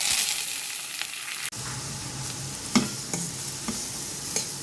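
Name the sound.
cumin, green chilies, onion, curry leaves frying in oil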